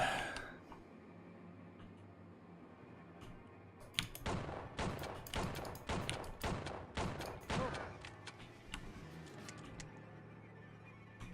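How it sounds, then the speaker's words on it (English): Enemy gunfire in the 1997 LucasArts game Outlaws, a dense volley of sharp shots packed into a few seconds after a quiet start, then fading back to near silence. "from the hotel, they are also shooting me"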